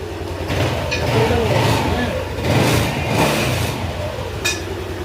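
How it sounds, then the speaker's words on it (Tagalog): A Yamaha NMAX 155 scooter engine runs steadily after a top overhaul, a close mid-pitched hum that swells and eases a couple of times, with people talking over it. "Ito na yung tunog ng motor ni sir ngayon, parang bago na uli."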